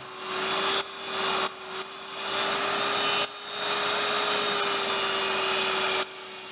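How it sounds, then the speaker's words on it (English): An XL table saw with a blunt blade cuts scrap timber to length: a loud, steady motor whine runs throughout, swelling into harsh cutting noise over several passes with brief dips in between. "Cutting the wood to the correct length on my XL table saw."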